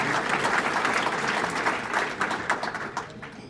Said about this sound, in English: Let's give Arthur a round of applause for his dedication